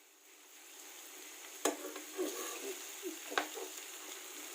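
Stuffed cheesy chicken rolls sizzling in a pan, a soft continuous fry broken by two sharp scraping clacks as the rolls are turned, with small sputters in between.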